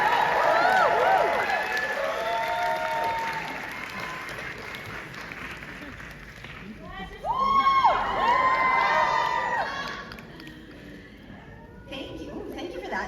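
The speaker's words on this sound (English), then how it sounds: "Round of applause." A live crowd at a Q&A event for the series Heeramandi claps, cheers and whoops as a guest takes the stage, loud bursts rising and falling with voices mixed in.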